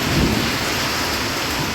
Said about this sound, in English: We got thunder and lightning happening now. Got some rain.